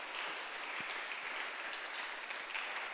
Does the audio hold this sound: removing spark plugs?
no